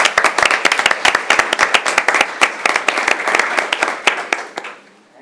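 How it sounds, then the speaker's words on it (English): A small audience at a school board of education meeting claps for an honoree, the individual hand claps distinct and brisk, tapering off and fading out near the end. "Let's give her a round of applause"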